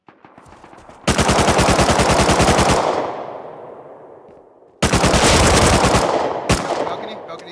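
Automatic gunfire in the survival game Rust rings out in two long, loud, rapid bursts separated by a quiet gap, followed by a single sharp shot near the end; no speech.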